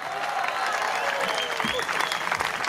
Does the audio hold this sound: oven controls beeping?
no